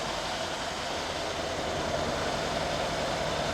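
Mercedes-Benz AMG engine running after repair of a misfire, giving a dense, steady roar that holds evenly throughout and sounds close by, with no voices.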